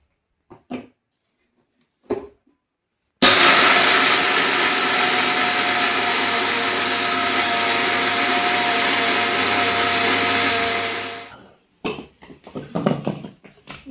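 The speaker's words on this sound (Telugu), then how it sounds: "ఇప్పుడైతే మిక్సీ పట్టుకుందామండి." A kitchen mixer grinder grinds lentils with cardamom pods, a loud steady whirring roar running alone for about eight seconds before cutting out, with brief handling knocks before and after.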